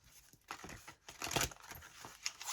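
Playing cards being shuffled up close, a quick series of crisp riffling and crinkling bursts with short pauses between them, fairly quiet and heard alone without voices.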